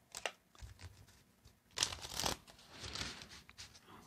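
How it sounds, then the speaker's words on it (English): A deck of reading cards is shuffled close by, quiet riffling bursts and soft flutters repeating over a few seconds, with no talking. "another shuffle, they say."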